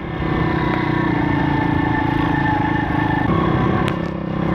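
A pit bike engine, just kick-started after a valve adjustment, runs steadily at a close, loud idle with a mechanical clatter and a constant drone throughout, with no talk over it.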